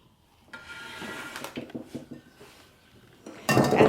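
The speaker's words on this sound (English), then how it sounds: "what I'm going to do now is fold this in to my plantains," Ripe plantains, mashed, get whipped aquafaba folded in by hand, making soft, irregular scraping and knocking sounds against a bowl at close range, then a denser burst of wet rustling near the end. No one speaks.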